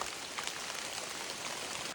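Hail falling outdoors during digging: a dense, continuous hiss of many tiny impacts, steady and fairly loud for the whole two seconds, with no voices.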